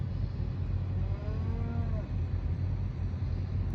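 Cattle from a bunch of fall-calving cows moo in a drawn-out call partway through, set against a steady low rumble of farm machinery such as a nearby tractor.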